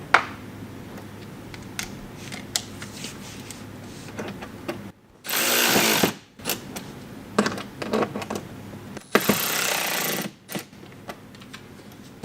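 Cordless power tool driving screws into a mud flap on a 2022-2024 BMW X3 M, two loud whirring bursts of about a second each, separated by clicks and handling noise up close.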